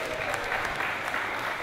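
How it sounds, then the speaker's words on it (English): Dense clapping from a crowd, steady and sustained throughout, with a faint murmur of voices underneath. "give yourselves a round of applause"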